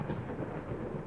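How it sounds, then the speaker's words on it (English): Low, steady thunder rumble rolling through the horror game Layers of Fear, a continuous deep roar that never breaks into a sharp crack, with no one speaking over it. "Oh, yay, there's thunder."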